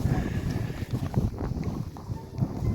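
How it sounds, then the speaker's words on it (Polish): Gusty wind buffets the microphone with low rumbling bursts, steady and close, with no voices, on a cold evening by a fishing spot. "Wiatr znowu się zrobił"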